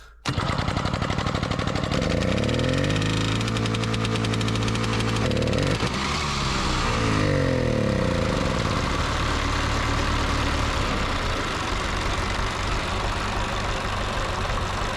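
A tractor's diesel engine cranks, catches and settles into a loud, steady idle close by, with a rev change partway through before it runs on evenly.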